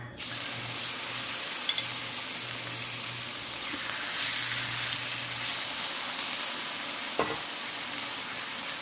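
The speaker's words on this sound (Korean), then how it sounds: "센 불에서 구워주고 있습니다" A thick pork neck steak sears in a pan over high heat, giving a loud, steady close sizzle throughout with a faint clink near the end.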